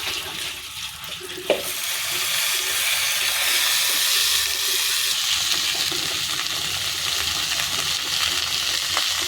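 Marinated lote fish sizzles steadily in hot oil in a pan with pumpkin leaves, a dense, continuous frying hiss with a brief clink near the start, close and fairly loud with no talk.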